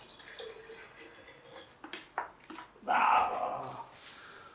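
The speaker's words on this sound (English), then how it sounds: "I'm just going to add a splash of water." A short splash of clean water is poured into a half-filled HVLP spray gun paint cup holding Tikkurila Everal Aqua 40 water-based paint, making a brief close gush of liquid after some quiet handling noises.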